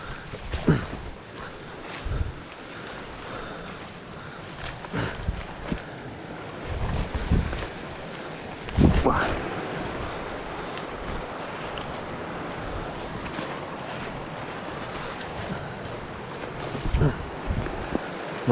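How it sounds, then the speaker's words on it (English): A river in button grass country near a log crossing on a Tasmanian bush walk, heard as a steady broadband rush of flowing water, joined by wind buffeting the microphone and a few footstep-like thumps. "You can hear this river."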